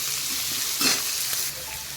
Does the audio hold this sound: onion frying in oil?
yes